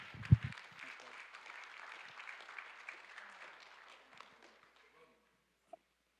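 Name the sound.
applause for a speaker at a memorial service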